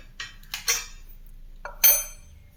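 An antique half-litre lota water vessel of bronze or copper, handled up close: four sharp metallic clinks and knocks ring out at uneven intervals against near silence, with no talking.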